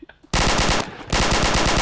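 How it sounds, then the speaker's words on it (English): Rapid machine-gun fire in a video game, two loud bursts of dense, continuous shots split by a brief dip, close and dominant after a few faint sounds at the start. "Oh, he's firing."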